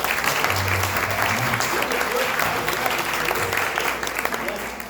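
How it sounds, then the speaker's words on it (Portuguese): A congress audience gives dense, sustained applause for the organizing team, loud and continuous throughout, with voices mixed in under the clapping. "Uma salva de palmas para todos eles"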